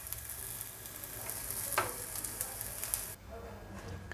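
Raw banana pieces sauté in a pan with a soft, steady sizzle and occasional stirring scrapes, fairly quiet and close, fading at the end.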